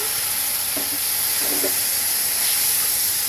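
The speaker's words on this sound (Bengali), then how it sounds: "এখন একটু আমি জল দিয়ে দেবো যাতে মশলাগুলো পুড়ে না যায়" Water poured onto spices frying in a pan for a taro and golsa fish curry sends up a loud continuous hiss of steam, with a few soft utensil clinks partway through.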